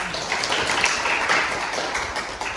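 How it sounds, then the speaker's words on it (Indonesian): Applause in a classroom during a micro-teaching lesson: a short burst of dense, continuous clapping from a group, held at an even level throughout. "Tepuk tangan dulu."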